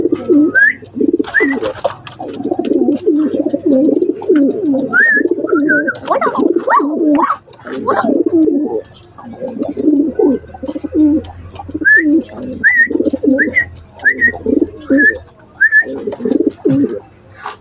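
Pigeons coo in deep, throaty rolls while they scuffle close by, and wings flap in bursts. Higher chirps cut in now and then, and a low background rumble runs under them.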